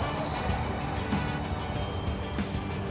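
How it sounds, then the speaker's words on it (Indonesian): A light rail train pulls up to a station platform on the airport line, its wheels squealing faintly over a steady low rumble of rolling stock, with no voices. "Nih, LRT udah tiba."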